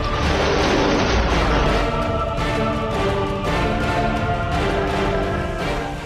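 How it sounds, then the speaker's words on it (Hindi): Iranian air defense missiles and rocket launchers fire during a military drill, a dense, continuous roar of booming launches and rumbling blasts that fills the whole stretch without pause. "ईरानी सेना ने अपने एयर डिफेंस मिसाइलों और रॉकेट लॉन्चर से बैटल ग्राउंड को थर्रा दिया"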